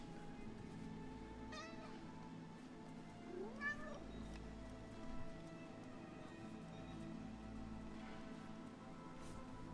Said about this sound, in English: Oh, here's a cat.